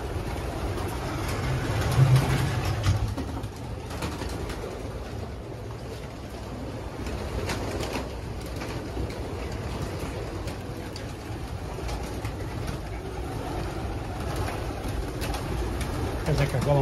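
Pigeons in a racing pigeon test loft holding close to 2700 birds, a steady low cooing murmur filling the space throughout with a slightly louder burst early on, continuous and moderately near.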